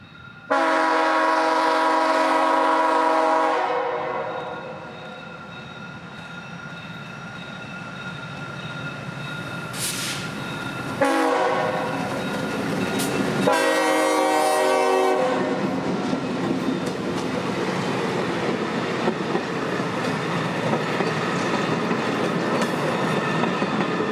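A train horn sounds loudly in long blasts while an inspection train rumbles past on the old Seaboard Brooksville Subdivision with clattering wheels, the horn returning partway through before the rolling noise continues.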